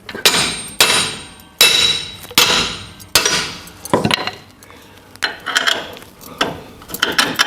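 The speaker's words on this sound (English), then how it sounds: "I think I need to go and fetch a hammer." Loud, irregular metal banging: heavy hammer strikes on a VW Beetle camber compensator being built, mixed with clattering and rattling, close by, with short pauses between bursts.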